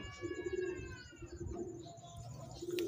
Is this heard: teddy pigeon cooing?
yes